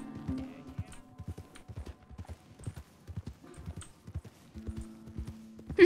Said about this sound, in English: He's just letting his horse slowly take him.